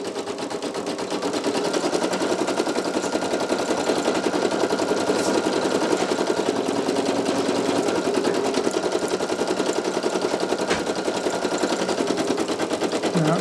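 Brother PE800 embroidery machine stitching a towel, a fast continuous mechanical rattle of the needle running steadily and loud throughout, close up with no talking.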